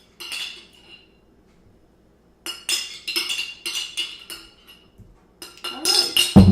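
Leftover spaghetti sauce spooned into a big and a small baking dish, with repeated bursts of metal spoon scraping and clinking against the dishes, separated by short pauses and growing louder at the end.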